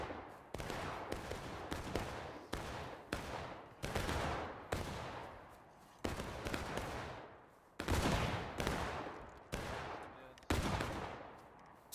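Musket gunfire in the Civil War game War of Rights, with repeated loud, sharp shots at irregular intervals, each followed by a long decaying echo. Some shots land close together and others stand alone, with no talk over them.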